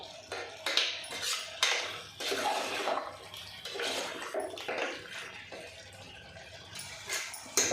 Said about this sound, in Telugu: మంచిగా కలుపుకోవాలండి